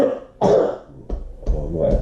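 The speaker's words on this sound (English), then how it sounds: "I'm still trying to cough my guts up" A person with a chesty cold coughs several times, harsh throaty bursts separated by short pauses, close and loud.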